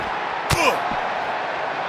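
A steady, dense roar from a crowd fills a WWE 2K19 video game wrestling arena, with a sharp slam-like impact cutting through midway.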